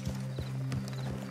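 Horse hooves clip-clop in Red Dead Redemption 2 as riders slow to dismount, a few even, fairly close thuds over a low steady background hum.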